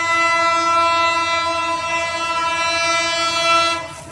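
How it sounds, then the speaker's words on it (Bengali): A loud, sustained train horn blares steadily close by, a rich multi-tone blast that holds for several seconds before cutting off. "ট্রেনের আগমন, এই দেখেন"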